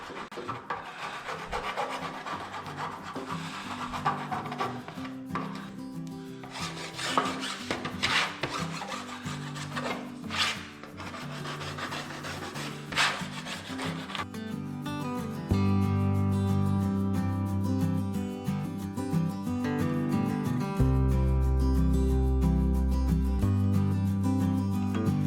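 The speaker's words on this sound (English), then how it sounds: "I kind of want to sand everything down, and I'm going to make some little curves at the ends" Wooden play kitchen pieces of veneered plywood are sanded down, giving a close, continuous raspy rubbing that later settles into a steadier, louder droning scrape.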